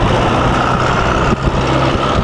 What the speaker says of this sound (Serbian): Pazi ti kola.